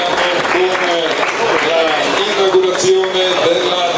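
Applause from a crowd at a public inauguration of a sundial, a dense, continuous patter of many hands with a voice carrying over it and faint crowd murmur.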